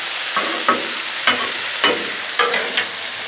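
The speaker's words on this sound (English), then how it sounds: "that steak is cooking up quick" Steak cooking on a Blackstone griddle for cheesesteak sliders gives a loud, steady sizzle, with a spatula scraping and stirring in six or so regular strokes; no speech.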